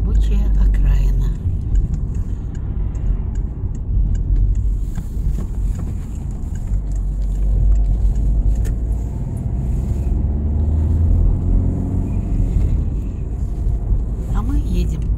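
Steady low rumble of a car interior while driving along roads on a working-class city outskirts, with continuous road and engine drone and some wind noise, heard close and constant under someone talking.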